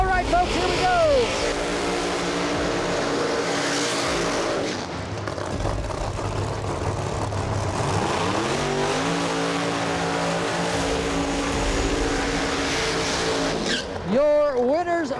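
Race cars at a no-prep drag strip at US 131 Motorsports Park roar loudly through the clip, engines rising and falling with tire squeal, while an announcer talks over the noise.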